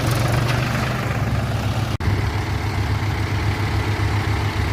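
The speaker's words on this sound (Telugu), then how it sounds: "ఈ రెండు ట్రాక్టర్లు వచ్చేసి హై గేరు థర్డ్ గేర్లో రాబోతున్నాయి" Two tractors, a Mahindra 575 DI XP Plus and a Powertrac Euro 45 Plus 4WD, run in high third gear, giving a steady, loud low diesel drone that drops out for an instant midway.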